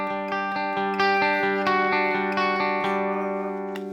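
Clean, dry electric guitar with no reverb plays a run of plucked notes, each attack clear and separate, the tone bright and direct, with no one speaking.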